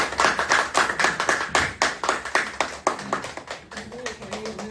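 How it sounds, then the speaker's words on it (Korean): Applause from a church lecture audience in Seoul welcoming a pastor, sparse individual claps in a steady rhythm that thin out toward the end, with faint voices underneath. "저희 따뜻하고 열광의 박수로 맞이하겠습니다"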